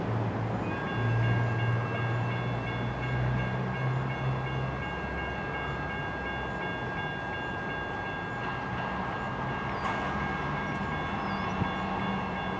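A big train passing at Richmond, Michigan, a steady loud rumble and rolling roar throughout, with a sustained horn tone early on and faint squeals above the constant wheel noise.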